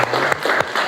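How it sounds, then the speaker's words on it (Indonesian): Students in a classroom clap their hands freely, a burst of uneven, loose claps with sharp peaks, close and fairly loud, with no voices. "kalian tepuk tangan, bebas tepuk tangan."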